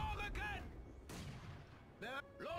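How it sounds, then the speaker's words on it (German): Mortar fire thuds in the World War II strategy game Company of Heroes 2, with several muffled booms spread through the moment, broken up by short bursts of voices talking. "Wer mörsert denn hier?"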